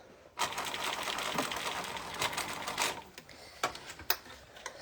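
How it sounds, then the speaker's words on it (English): A sewing machine stitches along the raw edge of fabric in rapid bursts of mechanical clatter, starting and stopping several times, close and fairly loud. "And you're sewing along the raw edge."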